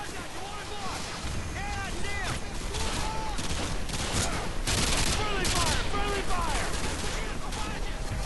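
Sustained rifle fire from an ACOG-scoped gun in the video game Modern Warfare 2, loud and continuous with dense bursts of shots and echoes over windy battlefield noise, with a voice talking over it.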